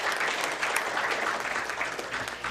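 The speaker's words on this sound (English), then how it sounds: "Another round of applause for" Applause from guests at a Chamber of Commerce luncheon, a dense steady wash of many hands clapping at once, moderately loud and sustained throughout with no break.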